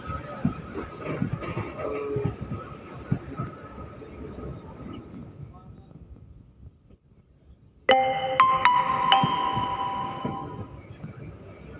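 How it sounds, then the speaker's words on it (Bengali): Malda Court–Siliguri DEMU train rolling on rails toward Old Malda Junction, a rumbling wheel clatter that fades, then loud metallic squeals and clanging as it brakes, with faint voices in the background. "তো আমাদের ট্রেন পৌঁছে গেল ওল্ড মালদা জংশন স্টেশন"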